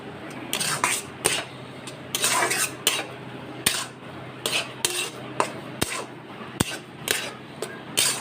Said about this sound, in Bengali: দিয়ে হালকা ফ্লেমে আমি এটাকে ভালো করে এরকম করে দলা পাকিয়ে নিচ্ছি